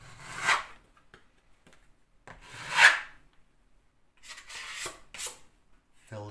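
Filler is pressed into plaster pops on a damp plaster wall with a scraping knife, giving a few short rasping, rubbing strokes separated by quiet gaps, close and fairly soft.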